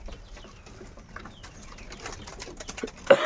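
Lakkha pigeons coo softly in a close loft, low murmuring calls under scattered rustles and small clicks, with a brief louder bump near the end.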